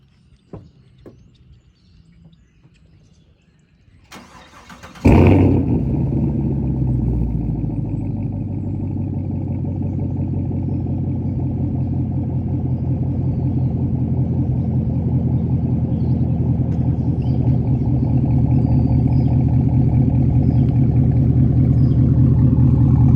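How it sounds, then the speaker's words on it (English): Chevrolet Camaro SS engine starts with a sudden loud bark after a quiet stretch, then settles into a deep, steady idle rumble through the exhaust while birds chirp faintly in the background. "You headphone users, I'm sorry about the loud exhaust and the birds."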